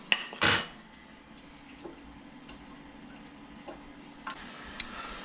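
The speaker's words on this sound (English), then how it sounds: "So you got your breader here. Just gonna mix this up." Breader mixed with fresh ground black pepper for speckled trout gives a sharp clatter of a utensil against a dish at the start, then faint scattered clinks and scraping over quiet background; no talking.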